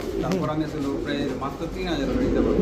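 Budapest racer pigeons cooing, soft repeated throaty coos close by, running under someone talking almost continuously.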